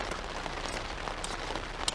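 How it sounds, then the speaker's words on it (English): Heavy rain hammers down steadily outdoors, a dense, even hiss of drops on surfaces that holds at one level throughout, with a few sharper splashes standing out near the end. "the rain just started hammering down"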